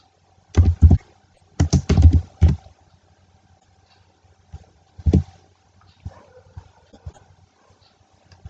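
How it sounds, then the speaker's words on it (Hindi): Typing on a computer keyboard comes in close, loud clusters of rapid key clacks separated by pauses, ending in a few lighter scattered taps in an otherwise quiet room. "यहाँ पे मैं टाइप कर देती हूँ"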